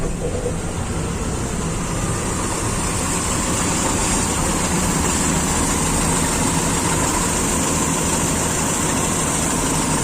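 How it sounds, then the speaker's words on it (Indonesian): A car engine idles roughly and shakes from a faulty or mismatched PCV valve, a steady, loud, close-up drone with a constant vibrating rumble throughout. "sangat getar ya, yaitu salah satu kalau PCV-nya rusak atau PCV-nya tidak sesuai dengan karakter mesin ini"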